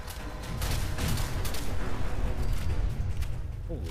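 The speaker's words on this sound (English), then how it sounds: "That was a nuclear explosion." A nuclear explosion in the video game Fallout 4 comes as a loud, sustained rumbling roar with crackling blasts layered on top, steady for several seconds before easing slightly at the end.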